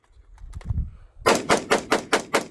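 An AR-15 pistol in 5.56 fitted with a muzzle brake fires six sharp, evenly spaced shots at a shooting range, loud and close, after a few faint handling sounds.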